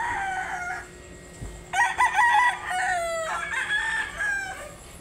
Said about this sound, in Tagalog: Yan yung manok namin.